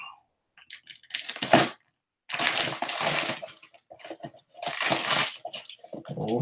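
Christmas wrapping paper tears and crinkles as a parcel is unwrapped, in two loud, rough bursts of ripping and crumpling separated by short pauses, close up.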